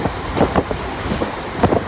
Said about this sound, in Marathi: ट्रेन पकडली आहे नाला सोपाऱ्याची